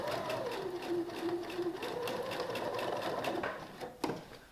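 A sewing machine stitches a nursing dress in a fast, continuous run of close stitches, with a small clunk near the end as it stops.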